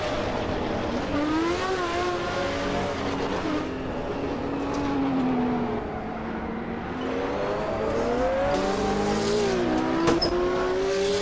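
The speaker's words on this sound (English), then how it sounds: "I definitely need to do some audio tweaking of opponent engine volume, because this 917 ahead is screaming." A Porsche 917 racing car's engine screaming ahead in a racing video game set at the 1970 24 Hours of Daytona, a continuous high wailing drone that climbs and falls with gear changes, loud and sustained.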